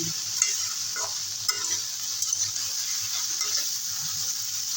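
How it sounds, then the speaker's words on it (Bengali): Taro stolons stir-fry with small bata fish in a pan, a steady close sizzle broken by light scraping and clinks of a spatula, with no voices. "আরো দু তিন মিনিটের মতো একটু কষিয়ে নেব"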